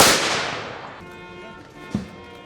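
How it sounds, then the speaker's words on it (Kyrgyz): A gun salute fired into the sky at a memorial ceremony for fallen soldiers: a sharp, loud blast with a long fading echo, followed by a fainter second report. "Асманга ок чыгарылды."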